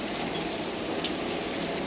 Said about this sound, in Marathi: गच्चीवर पाऊस असा पडलेला आहे